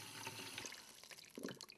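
Warm water running into the white plastic chamber of a Dulux PaintPod roller system, filling to 5 litres as a faint, steady splashing trickle with occasional drips.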